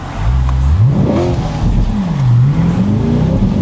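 A C8 Corvette Z51 with 495 horsepower revs up and surges forward in a hard launch-control start, pitch climbing through gear shifts, loud and close with steady road rumble underneath.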